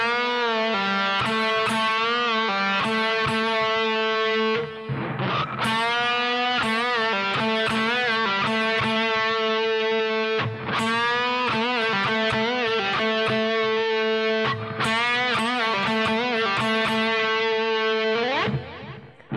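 Distorted electric guitar plays a lead phrase from a song's solo, with a fast run of sustained, bent notes in several loud, continuous bursts separated by short gaps.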